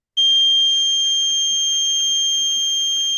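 A gas leak detector circuit sounds its buzzer alarm, a loud, piercing continuous tone that starts abruptly and holds steady with no talking.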